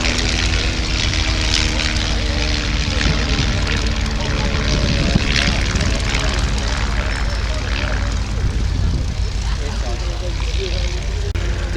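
A Tipsy Belfair light aircraft with a 65 hp engine flies past at an air show, its steady propeller drone loud and continuous throughout, with crowd noise and voices underneath.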